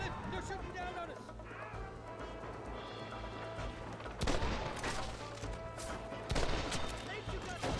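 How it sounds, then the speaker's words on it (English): Gunfire from enemies shooting down from a cliff in the Western video game Red Dead Redemption, New Austin, with a dense fusillade of shots and two loud bursts under continuous talk and action noise. "They're shooting down on us."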